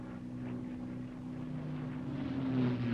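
A P-51 Mustang's piston engine drones steadily in flight during a stall demonstration, a faint, distant hum with a slowly rising, slightly wavering pitch.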